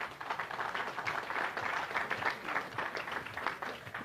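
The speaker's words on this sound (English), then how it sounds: "This is really the biggest and most important fair of its kind in this region that deserves a round" Crowd applause at the opening ceremony of the 54th annual Agrifest fair, a fairly quiet, steady patter of many people clapping, heard from some distance without speech on top.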